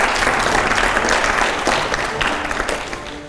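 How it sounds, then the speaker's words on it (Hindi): A studio audience at a Hindi political talk show featuring Kumar Vishwas bursts into loud, vigorous applause, a thick roar of clapping that gradually tapers off toward the end. "जोरदार तालियां हो जाए"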